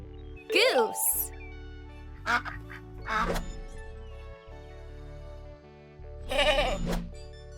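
A goat bleats a few times in short wavering calls over light background music, with some bursts sounding close and loud.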